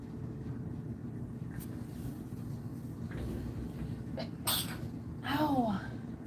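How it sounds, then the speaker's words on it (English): A pregnant woman indoors gives a single short sneeze near the end, a sharp burst with a high squeaky tail, over a faint steady background hum. "Everybody makes fun of the way I sneeze."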